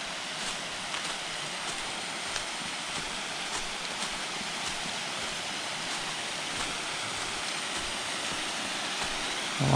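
Steady rushing water of a waterfall at Laurel Run Park, a continuous broadband roar heard from nearby with no voices.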